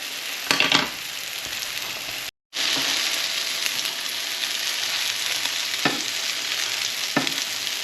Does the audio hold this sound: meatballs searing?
yes